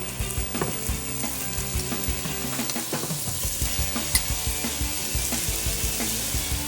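Burgers frying in a hot pan make a steady, close sizzle with bursts of crackling and stirring scrapes, while faint running water trickles in the background.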